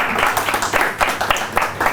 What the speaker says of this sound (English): I give a round of applause for Dr.